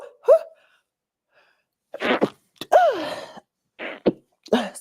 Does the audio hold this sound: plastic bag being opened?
no